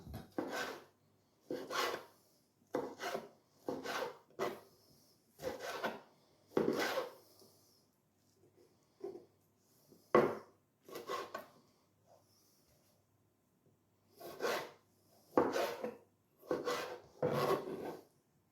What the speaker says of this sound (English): I'm just generally chopping up these tomatoes, and they're a mixture of small tomatoes and beef tomatoes